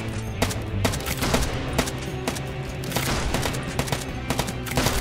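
Sniper rifle fire in LifeAfter during a boss fight on the Fall Secret Path, sharp shots cracking repeatedly in a steady, loud sequence over constant low game ambience.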